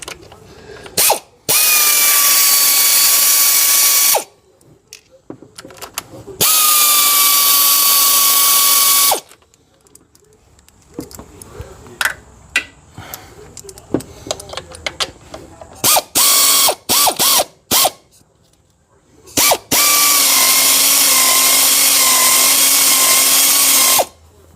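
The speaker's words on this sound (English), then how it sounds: "Start taking some bolts out and start getting to this job." Power tools and a hand ratchet take bolts off an engine head, with long loud whirring bursts of a drill or impact driver alternating with quicker ratcheting clicks and clanks, close up.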